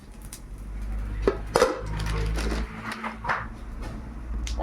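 Cumin seeds dropped into hot oil in a wok give a sizzling crackle with scattered sharp clatters, a few louder knocks of utensils against the pan, and a steady low hum underneath.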